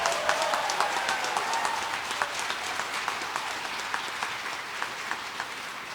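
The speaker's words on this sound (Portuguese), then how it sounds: "Pode aplaudir, pode aplaudir." A church congregation at Mass applauds during a homily, a steady even wash of many hands clapping that sounds moderately distant and continues for the whole stretch.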